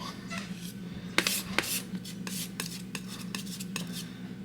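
A palette knife scrapes and taps on a palette while mixing phthalo blue and white oil paint, giving a series of close, light scraping strokes over quiet room hum.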